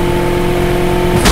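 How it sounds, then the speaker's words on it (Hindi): A car engine in a ramp car racing 3D Android game, a steady droning engine hum that holds constant and close, ending in a brief burst of noise. "तो चलिए गाड़ी स्टार्ट हो चुकी है"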